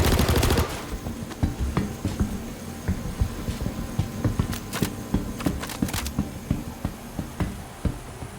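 Rapid bursts of video-game gunfire hit the player, a string of sharp, fairly close pops and thuds spaced irregularly over a low, steady hum, with no talking.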